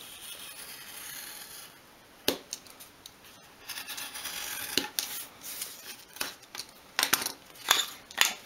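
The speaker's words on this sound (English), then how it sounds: "I'm just going to cut just underneath the pencil line" Scissors cut a sheet of paper just beneath a pencil line for a dolls house hallway, giving a series of close, crisp snips and rustles at an uneven pace.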